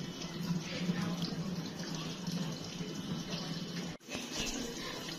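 Water pouring steadily into the drum of an LG 16 kg top-load washing machine during its rinse cycle, a constant rushing fill with a brief dip near the end before the flow resumes.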